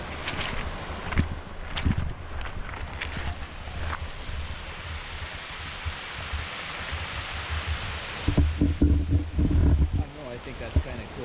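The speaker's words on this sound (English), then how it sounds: "you're going to hear a really neat sound, which is the waves coming in." Ocean waves wash onto the rocky shore of Sombrio Beach on Vancouver Island, a broad rushing surge with rumbling pulses that swell louder near the end, heard with wind noise on the microphone.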